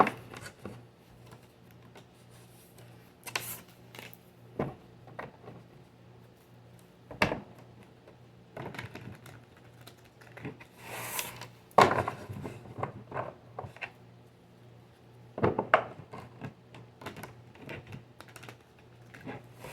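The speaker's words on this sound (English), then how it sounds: "Let me shuffle one more time." Tarot cards being shuffled by hand during a reading, giving soft riffling and tapping bursts at irregular intervals, moderately close and fairly quiet against a low steady hum.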